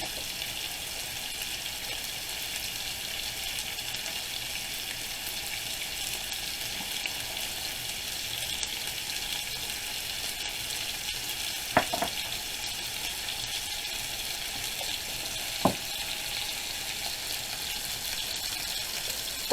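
Garlic beef frying in a pan gives a steady, even sizzle throughout, with a couple of brief clinks of utensils partway through and no talking.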